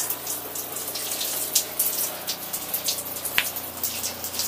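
Water runs through an RV's open valves as its lines are flushed of antifreeze after winter storage, a steady close hiss broken by brief splashy bursts, with no talking.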